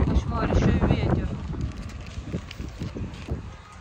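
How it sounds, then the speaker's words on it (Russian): Gusty wind buffets an outdoor microphone under a dark, stormy sky, a steady low rumble that swells loudest early on and slowly eases, heard without any talking. "Кошмар, еще и ветер."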